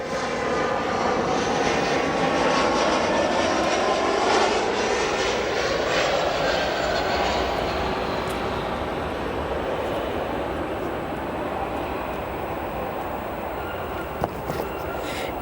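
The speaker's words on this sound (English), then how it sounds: "There are lots and lots of heavy aircrafts on their way in to O'Hare today" Heavy jet aircraft inbound to land at O'Hare Airport, a loud, sustained engine roar filling the scene, swelling then slowly easing as the planes pass close overhead.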